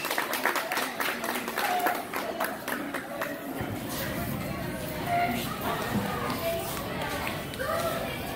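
An audience claps for a mariachi band, a burst of applause at the start settling into scattered clapping and crowd noise as someone speaks over it.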